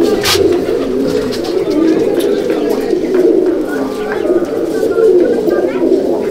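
Pigeons in a loft coo steadily in overlapping, throaty rolls, close and loud and continuous throughout, with some faint chirps mixed in.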